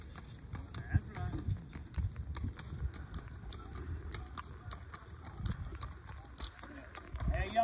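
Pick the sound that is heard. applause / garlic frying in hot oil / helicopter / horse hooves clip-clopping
horse hooves clip-clopping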